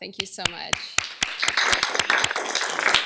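A student panel audience breaks into applause for a student organizer, sharp individual claps building into a denser patter while a nearby voice speaks over it.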